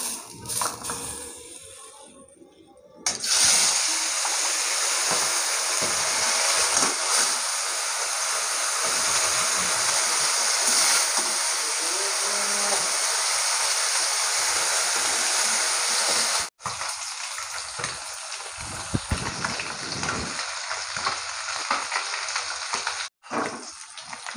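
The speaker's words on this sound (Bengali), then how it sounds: "এবার এই মাছগুলো আমি ভেজে নেব।" Fish fry in hot mustard oil in a wok on a gas stove, a loud, dense sizzle that bursts in after a quieter start and holds steady, with brief breaks and stirring noises, no talk.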